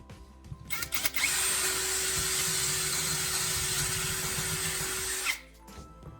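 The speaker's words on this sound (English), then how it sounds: "Then I clamped the dowel sideways and drilled a second hole that crossed the first one." A power drill bores through a wooden dowel clamped sideways, crossing an earlier hole: a loud, steady whining drone holds for about four seconds, then cuts off, with no talking.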